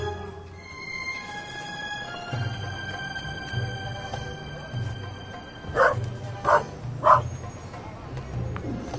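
A dog in the video game The Raven Remastered gives three short, mid-distance barks or yips late in the clip over quiet ambient game music.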